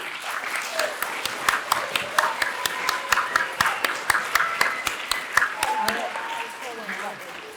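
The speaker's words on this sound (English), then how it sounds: "let's have one more round of applause for Cheryl and AT&T" A crowd at a laptop giveaway claps in a lively burst of applause, individual sharp claps standing out near the front, with voices murmuring and cheering underneath.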